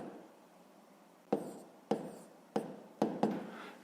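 Pen strokes on paper as a math subtraction solution is written out by hand, five short scratchy bursts at uneven intervals, close and quiet with no voices.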